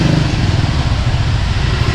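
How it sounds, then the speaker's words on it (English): Loud, close engine of a motorbike truck rumbling steadily on a narrow Saigon alley in Vietnam, a continuous throbbing drone with no talk. "We got a motorbike truck right here who also needs to go through."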